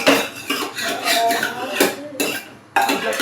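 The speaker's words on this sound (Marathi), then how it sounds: "मटण चटणी टाकून द्यायचं. मस्त असं फिरून घ्यायचं." Mutton tossed with chutney masala in a pot, with loud metal-on-pot scraping and clinking strokes in an uneven rhythm, close by, with brief pauses between bursts.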